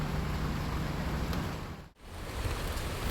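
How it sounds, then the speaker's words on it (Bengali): Rain falls outdoors after a hot spell as a steady, even hiss throughout, briefly dipping for a moment near the middle before resuming. "ফাইনালি বৃষ্টি কিন্তু হচ্ছে,"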